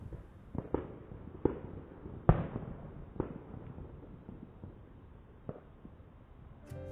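Distant Fourth of July fireworks thump and crackle in scattered bursts, about eight faint booms spread irregularly across the quiet outdoors near a wooded area, with one sharper, louder pop midway.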